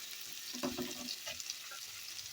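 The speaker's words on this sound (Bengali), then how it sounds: "পেঁয়াজটা একটু নাড়াচাড়া করে নেবো হালকা একটু ভেজে কাঁচা লঙ্কাটা দিব" Onion fries in oil while being stirred, with a soft continuous sizzle and a brief scrape of a spatula in the middle, fairly quiet and close.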